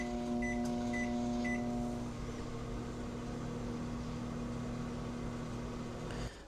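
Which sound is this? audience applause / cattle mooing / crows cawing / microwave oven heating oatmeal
microwave oven heating oatmeal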